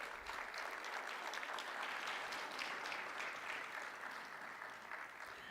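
Sustained audience applause fills a celebration-of-life memorial event, a dense, steady wash of many hands clapping at even loudness throughout, with no voices over it.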